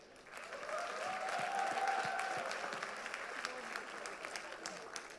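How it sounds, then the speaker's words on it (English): A crowd at an orientation programme breaks into another round of birthday applause and cheering, steady massed clapping with a brief rising whoop near the start that slowly tapers off. "So another cheer."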